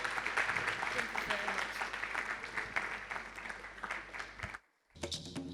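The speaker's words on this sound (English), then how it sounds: "A warm round of applause for them." Sustained applause from a conference audience for panelists at a creative-industry innovation event, dense and steady for several seconds before briefly cutting out, then resuming.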